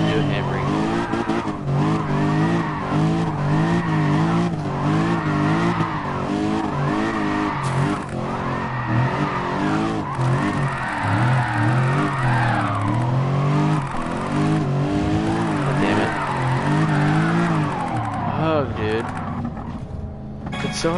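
Race car in Gran Turismo Sport sliding under handbrake, the engine note warbling up and down through repeated revs while tires squeal and skid, continuous and fairly loud with a voice talking over it.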